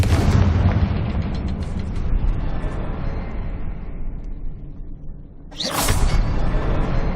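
A Confringo fire spell explodes in Hogwarts Legacy, a loud rumbling blast that fades over several seconds, followed by a sharp whooshing burst near the end.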